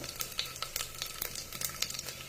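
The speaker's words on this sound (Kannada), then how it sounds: "ಒಂದು ಸ್ಪೂನು ಜೀರಿಗೆ ಇದು ಚೆನ್ನಾಗಿ ಫ್ರೈ ಆಗಿದೆ" Cumin seeds fry in a pan for ghee rice, giving a quiet, crackling sizzle with small sputtering pops scattered irregularly throughout.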